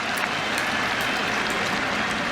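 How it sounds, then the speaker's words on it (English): A cricket crowd at an England v India Test match applauding Alastair Cook's century, a loud, sustained roar of clapping from a large stadium audience that continues unbroken. "They're just going to go on clapping."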